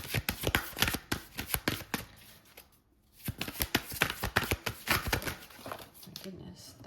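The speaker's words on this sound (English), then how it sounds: "which I did see when I was shuffling." Rapid, dense riffling of tarot cards being shuffled, two bursts of crisp flutters with a short pause between, close and fairly loud.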